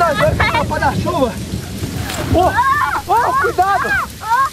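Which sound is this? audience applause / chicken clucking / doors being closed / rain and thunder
rain and thunder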